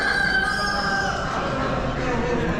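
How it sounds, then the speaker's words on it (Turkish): Roosters crow loudly at a busy livestock market in Çorlu, with a long drawn-out call over clucking poultry and general crowd noise. "Horozlarımızı gördük."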